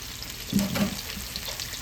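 Okra fried crisp and golden brown in hot oil, old-school Southern style, gives a steady close sizzle. A couple of slightly louder crackling swells come through near the middle, and no one speaks.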